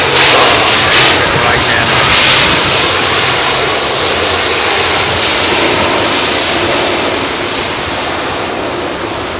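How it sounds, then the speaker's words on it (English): MD-80 jet airliner landing at London Heathrow in low visibility, a loud close roar of engines in reverse thrust that swells then gradually fades, with a brief spoken word over it. "MD-80, interestingly enough. Reverse pitch."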